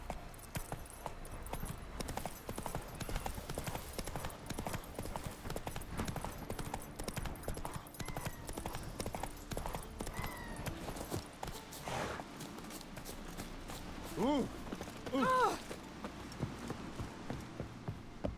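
Hooves of Roach, Geralt's horse in The Witcher 3, clip-clopping in a steady trotting rhythm under in-game ambience, with a brief snort or whinny near the end and a faint voice in the background.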